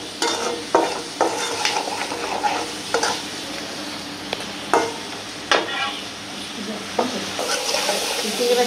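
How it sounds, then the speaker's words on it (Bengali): Prawns sizzle in oil in a pan, with a steady frying hiss broken by scattered scraping stirs and clinks of a utensil against the pan, heard close. "চিংড়ি মাছটা খুব সুন্দর করে ভাজে লইলাম"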